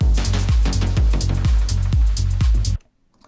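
A loud, dense, heavily compressed music loop with punchy kicks about every half second, ending abruptly into near silence.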